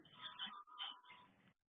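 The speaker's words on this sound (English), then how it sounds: "That's my kitty." A house cat meows twice in quick succession, close and fairly quiet, each call drawn out and slightly whiny, with no talking over it.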